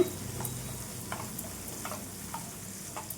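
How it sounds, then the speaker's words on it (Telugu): Onions and green chillies fry steadily in a pan with turmeric for a pumpkin tomato curry, a soft continuous sizzle with faint crackles and occasional light stirring clicks, close and alone with no talk. "ఈ ఆనియన్స్, పచ్చిమిర్చి ఇవన్నీ కూడా మంచిగా మనకి మగ్గాలండి."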